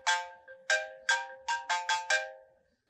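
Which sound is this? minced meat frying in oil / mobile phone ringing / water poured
mobile phone ringing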